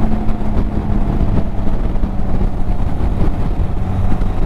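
Benelli TRK 502 motorcycle engine at speed while riding, a steady loud droning hum mixed with rushing wind noise, continuous and unbroken with no talking.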